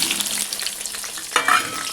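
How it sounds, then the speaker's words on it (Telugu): Onions dropped into hot oil for a fish curry, hissing into a loud, steady fry with a sharper burst of sizzle partway through, close up and with no voices. "ఆయిల్ హీట్ అయింది, ఆనియన్స్ వేసుకుందాం."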